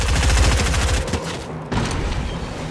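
Gunfire in Fortnite aimed at a shark: a loud, rapid automatic burst fills the first second, followed by a few more close, hard shots and crackling reports.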